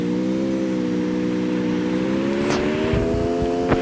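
A car engine in the Free Fire video game, a steady whirring drone that rises slightly in pitch as the vehicle approaches, loud and close, with a couple of brief sharp clicks near the end and no talking.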